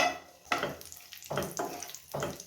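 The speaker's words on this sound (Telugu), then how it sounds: "ఇప్పుడు కిస్మిస్లు వేసుకుందాం" Raisins fry in a pan for beetroot halwa, giving a steady sizzle that flares in several sharp bursts, close and fairly loud, with no talking.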